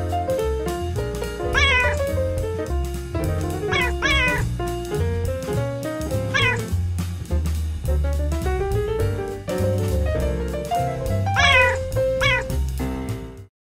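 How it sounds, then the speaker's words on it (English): A feral cat meows in several drawn-out, rising calls at intervals over a steady musical bed, with no clear purring standing out. "He's purring."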